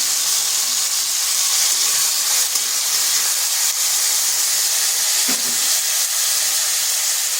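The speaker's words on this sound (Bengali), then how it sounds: "দিয়ে দিচ্ছি কেটে রাখা আলুগুলো।" Cut potatoes sizzle loudly in hot oil with black cumin, a dense, steady hiss and crackle filling the pan close up, with no talking.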